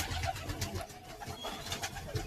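Racing pigeons coo softly in a loft, a low continuous murmur of several birds close by with no one talking.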